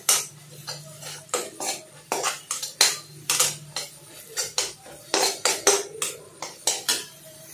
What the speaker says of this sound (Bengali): ডিমটাকে কিন্তু আমি খুব ভালো করে এখানে ভেজে নেবো